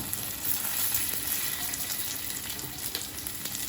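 Onions sauté with turmeric powder in a hot pan, giving a dense, even crackling sizzle up close with a few faint stirring scrapes and nothing else over it.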